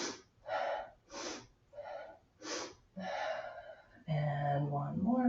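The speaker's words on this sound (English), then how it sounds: "Sniff and twist." Sharp, repeated sniffing breaths taken in a steady rhythm during a Pilates twisting exercise on a mat, about six short bursts close to the mic, then a louder hum of sound at the end.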